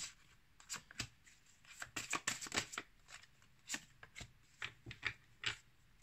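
Tarot cards shuffled by hand in a quiet room: a run of crisp riffling flicks and soft slaps, close and fairly faint, in quick irregular bursts with short pauses, no voices.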